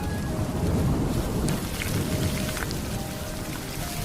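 Heavy rain pours steadily on surfaces while thunder rolls through, loud and continuous across the whole stretch with no voices.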